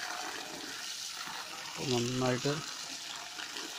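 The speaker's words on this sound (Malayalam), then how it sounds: "കപ്പയുടെ മൂട് നന്നായിട്ട് നനച്ചു കൊടുക്കണം" Water sprayed onto the bases of tapioca plants in a home garden, a steady hiss running throughout while a person speaks over it.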